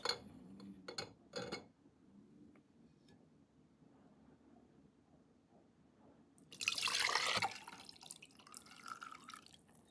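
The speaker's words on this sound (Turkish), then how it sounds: "Bu muhteşem içeceğimizi ılık haline geldikten sonra süzüp" Warm herbal tea strained into a glass jar: faint trickling and dripping liquid near the start, then a louder burst of pouring and splashing for about a second, followed by quieter drips.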